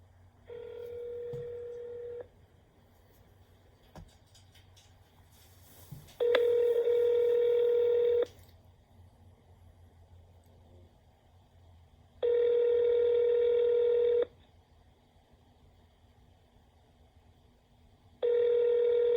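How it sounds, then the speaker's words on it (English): A telephone calls a car dealer: a steady, close ringback tone sounds in four evenly spaced bursts of about two seconds each, separated by quiet gaps, with no one speaking. "Let's go ahead and give him a call."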